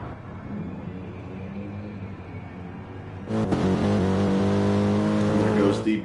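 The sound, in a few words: BMW GT3 race car leaving the pits, video game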